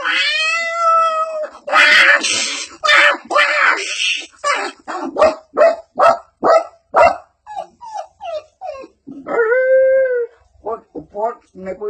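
A stage performer imitates a dog, giving a rapid run of short, sharp barks in quick succession, close and loud. A longer whining, cat-like wail comes at the start and another near the end.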